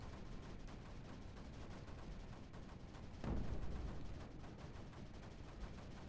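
Many mortars fire in the video game Creeper World 4, making a dense, crackling barrage of gunfire-like shots. One heavier thump stands out midway, and there is no talking.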